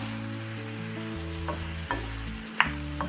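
Patty pan squash sizzles steadily in a hot pan while a utensil stirs, with a few sharp scrapes and clicks against the metal.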